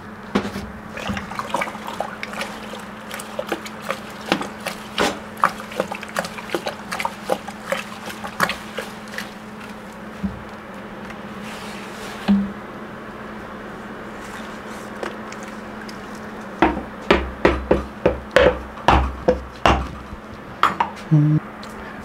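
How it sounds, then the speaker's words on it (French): Homebrew beer mash being stirred in a pot at 65 degrees, with repeated scraping, sloshing knocks of the spoon against the pot wall, some quick clustered strokes toward the end, over a steady low hum. "mais on va mélanger pour homogénéiser"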